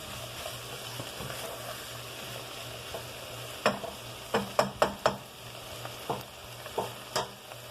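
Rice sizzling in a pan over a steady low hum, with a cluster of sharp scraping stir strokes in the second half; nobody speaks.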